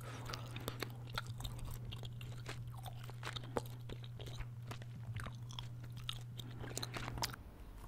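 Close-miked gum chewing with repeated moist clicks and crunchy snaps in an irregular chewing rhythm, intimate and detailed over a constant low hum, no voices present.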